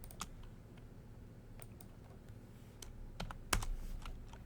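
A computer keyboard is typed on in sparse, irregular clicks and taps over a low steady hum. A cluster of slightly louder keystrokes comes near the end.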